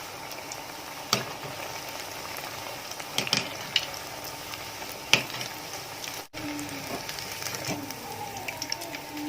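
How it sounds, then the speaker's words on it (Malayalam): Egg-coated bread balls deep-frying in hot oil as a homemade snack, giving a steady crackling sizzle with scattered pops, close and moderately loud, with no one speaking. "അപ്പോൾ അതെല്ലാം നമ്മൾ ഇതുപോലെ ഫ്രൈ ചെയ്തെടുത്തിട്ടുണ്ട്."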